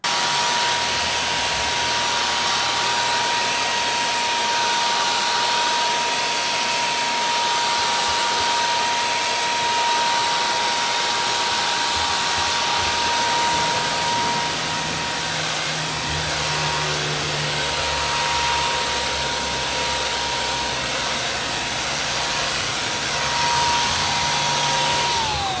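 A Wagner Flexio 590 paint sprayer gun runs with a continuous loud, even motor whine and airy hiss, holding steady throughout with slight shifts in pitch partway through.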